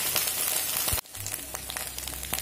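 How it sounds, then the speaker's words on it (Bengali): Ridge gourd frying in a pan with grated coconut and turmeric, a steady bright sizzle broken by a short thud of stirring, then the crackle resuming close and continuous. "দিয়ে দেবো অল্প একটু হলুদ, দিয়ে আরও 1 মিনিট মতো নাড়াচাড়া করে ভেজে নেব"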